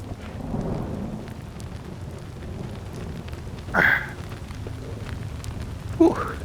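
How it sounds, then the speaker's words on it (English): Steady rain hisses through a stormy outdoor scene in The Walking Dead: Saints & Sinners, with a low thunder rumble early on and a couple of brief sharp accents standing out over the wash. "it's so cold out with all this rain"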